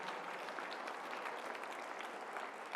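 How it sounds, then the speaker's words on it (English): Dense, steady audience applause at a Turning Point Action AmFest rally, a continuous wash of many hands clapping from a large crowd, moderately distant, with no talk over it. "You deserve a round of applause."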